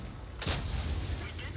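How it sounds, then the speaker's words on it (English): Tank shell ricochet in World of Tanks, a single sharp cracking impact after a brief lull, followed by low engine rumble, with faint voice nearby. "ricochet."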